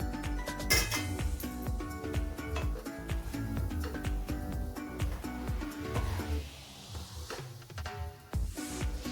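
A cooked coconut burfi mixture is scraped from the pan onto a ghee-greased plate, with dense metallic clinks and scrapes of a spoon against steel throughout, loud and close.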